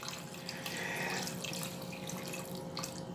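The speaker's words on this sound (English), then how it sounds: "at this point in time, I will add my water." Water pours from a tap into a pot of chicken stew, a steady close splashing stream that swells slightly midway, with a few drips near the end and no talking.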